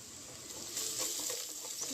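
Vegetables, tomato pieces before okra goes in, fry in a pan over a gas stove with a steady, close sizzle that swells slightly partway through, alone with no talk.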